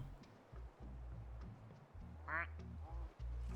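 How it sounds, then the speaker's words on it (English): Cartoonish duck quacks in the VRChat virtual world, a short burst of nasal honks near the middle of the clip and another toward the end, sounding over a steady low background hum with a voice speaking. "Oh, kawaii duck."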